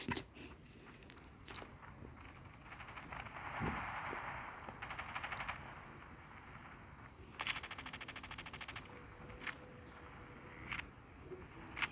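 Rapid bursts of gunfire with sharp clicks and mechanical clatter, intermittent and fairly quiet, like game weapon sounds, with short gaps between volleys.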